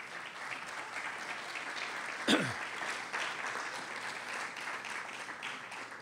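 Audience applause at a Newark governor's volunteerism event, a steady crowd clapping from a hall, with a brief sharp whistle or squeal partway through.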